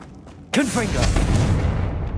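In Hogwarts Legacy, a Confringo spell goes off as a sudden booming blast with a whooshing, warbling burst that rings on and decays over a couple of seconds.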